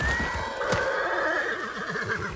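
A horse in the game Ghost of Tsushima lets out one long, loud, wavering whinny, close and clear, with faint hoof sounds beneath it.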